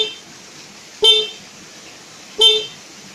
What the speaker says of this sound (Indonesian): Suara klaksonnya nyaring